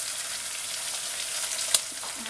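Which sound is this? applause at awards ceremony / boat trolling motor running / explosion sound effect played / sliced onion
sliced onion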